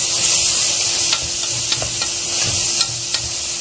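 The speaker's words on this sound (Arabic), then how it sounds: "هنا بقى البصله في معلقه الزبده بشلوحها اهو" Onion sizzles steadily in a spoonful of butter while being stirred for Korean egg fried rice, a loud, close, continuous frying hiss with a few soft stirring clicks and no speech.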